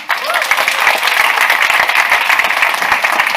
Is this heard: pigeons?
no